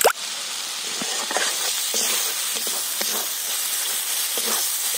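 Spice paste for aloo dum cooks with a splash of water in a hot pan, giving a loud, continuous hissing sizzle, with soft stirring bumps beneath.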